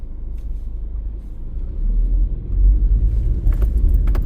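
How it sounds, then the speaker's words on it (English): A car rolls past on a narrow residential street in Paterson, New Jersey, its low engine rumble swelling as it nears and staying close and fairly loud, with a few light rattles near the end. "This car coming."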